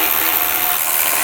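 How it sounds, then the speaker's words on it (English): A ratchet drives small 7mm screws into the side of a Jeep Wrangler JK dash, making a steady, dense mechanical whir that carries loudly and continuously with no pauses. "I'm going to start with the 2 7mm screws on the side here."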